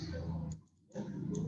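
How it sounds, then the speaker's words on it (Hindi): A computer mouse being clicked while working in CorelDraw makes a few small, crisp clicks against a quiet room hum. A voice is faintly present. "क्वेश्चन माउस से क्लिक कर देते हैं।"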